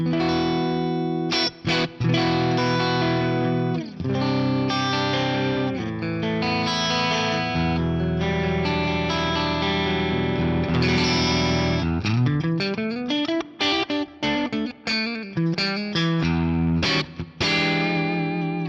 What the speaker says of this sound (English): Sweet edge breakup tone in there, a little bit of reverb.